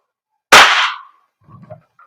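An EMG STI 2011 Combat Master airsoft pistol fires a single sharp, loud crack with a short decay, followed by faint quiet handling noise.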